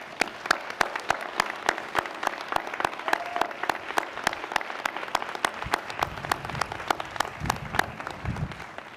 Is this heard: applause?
yes